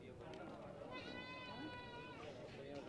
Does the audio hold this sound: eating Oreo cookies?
no